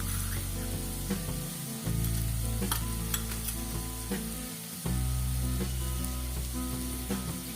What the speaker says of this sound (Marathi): लो गॅसवरतीच हे परतून घ्यायचे म्हणजे मग मसाले अजिबात करपत नाही